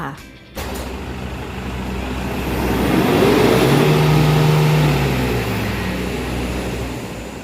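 A Toyota Hilux Vigo D4D diesel pickup on a road test gives off a steady, close engine drone and road rumble that swells gradually after a sharp start, with a voice faintly underneath.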